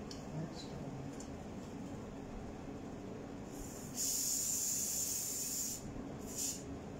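An aerosol spray hisses nearby in one long burst of nearly two seconds, then a brief second puff, over a steady low room hum.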